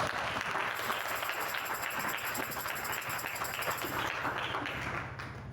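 A church congregation applauding and cheering the Lord in a dense, sustained wave of clapping with a steady crowd hum throughout.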